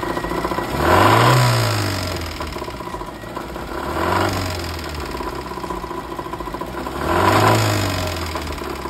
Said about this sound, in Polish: Metalowe elementy uderzające o siebie kilka tysięcy razy na minutę wydają charakterystyczny klekot.